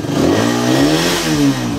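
A Suzuki Raider 150 motorcycle engine revs steadily up and down, loud and close, a continuous throaty drone with no talking.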